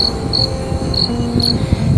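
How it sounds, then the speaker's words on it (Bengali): Crickets chirp at night in a dark, dense forest, their shrill chirps coming in short, evenly spaced bursts over a steady insect drone, with no voices. "ঝিঝি ডাকছে"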